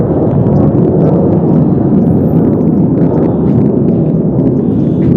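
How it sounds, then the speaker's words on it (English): A military jet from a nearby base in Yuma flies overhead, a loud, steady broadband roar that holds for the full five seconds without pause. "There's a big plane going overhead."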